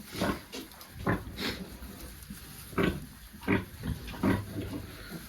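Pigs grunt in short, low bursts, several separate snorts spaced irregularly over a quiet outdoor background.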